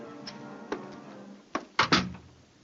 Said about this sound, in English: Come in, Buster, and close the door behind you